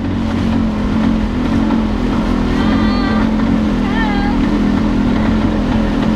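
A motorboat with engine trouble runs out at sea on a spearfishing trip, giving a loud, steady engine drone throughout with some faint higher whines riding on top.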